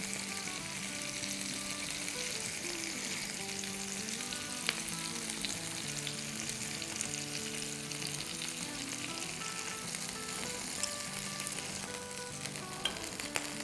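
Mini seekh kababs fry in a pan with a loud, continuous close sizzle and crackle, with occasional stirring or turning clicks throughout.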